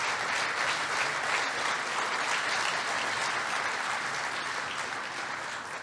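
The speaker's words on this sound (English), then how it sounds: "Can we give all these people a huge round of applause?" Sustained audience applause fills a symposium hall at the 2023 CFA Society Indy Forecast Symposium, a steady dense clapping from a large crowd that holds evenly throughout and tapers slightly at the end.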